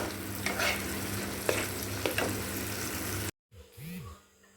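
Meat seasoned with turmeric and salt cooks in a pan over a low flame, giving a close, even sizzle with a few stirring scrapes for about three seconds before cutting abruptly to a quieter, different sound.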